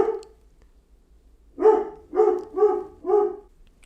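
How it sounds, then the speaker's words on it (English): Dogs bark outdoors, a single bark followed after a pause by four evenly spaced loud barks in a row, fairly close and clear against a quiet background. "the dogs were barking at literally nothing"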